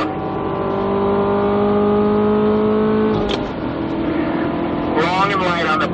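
A 2017 Chevrolet Camaro Turbo 2LT in stock form accelerates hard out of a corner on a race track, its engine note rising steadily and loud, dipping briefly with a shift, then climbing again, while a man coaches over it.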